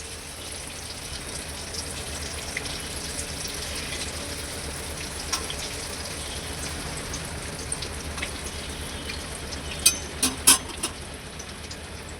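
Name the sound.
gaja sweets deep-frying in oil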